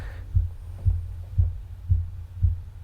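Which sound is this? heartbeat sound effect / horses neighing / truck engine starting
heartbeat sound effect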